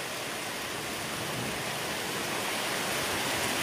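Heavy rain pours steadily in the Sundarbans, a dense, even roar of falling water that stays loud and unbroken throughout with no voices.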